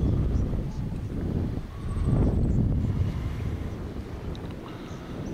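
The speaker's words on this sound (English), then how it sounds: "Beautiful day with a slight easterly wind." A slight easterly wind blows across Lake Victoria on a calm morning, a steady low rumble of wind on the microphone with faint lapping water and no other sounds.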